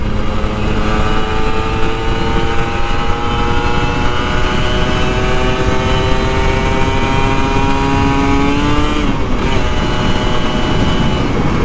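Kawasaki Ninja RR 150 motorcycle, an older two-stroke model, engine held at a loud steady rev with a smooth rising pitch while riding, then a brief dip and recovery near the end.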